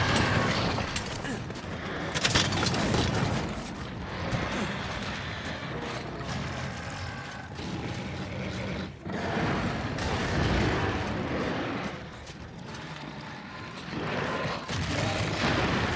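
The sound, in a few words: cannon fire in video game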